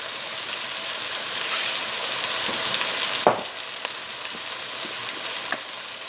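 A small onion and a shallot, seasoned with salt and pepper, sweat in a pan for beef stroganoff, a steady close sizzle with a few light scrapes and taps of stirring.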